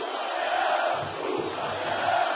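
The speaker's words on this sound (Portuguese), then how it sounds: "A torcida faz um barulhão" A football stadium crowd roars after Atlético's equalizing goal at Vila, a steady, massed cheering din that swells continuously, heard from a distance with no break.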